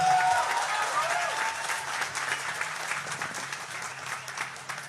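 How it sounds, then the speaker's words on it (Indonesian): Audience applause at an Indonesian political talk event, a dense burst of clapping from a crowd that starts loud and slowly thins and fades over a few seconds. "Ya tepuk tangan kita semuanya."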